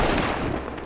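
Flare gun fired in the video game Animal Company, a single loud, close burst of explosive noise that fills the short moment and fades slightly at the end.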